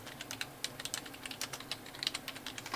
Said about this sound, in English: Typing is real.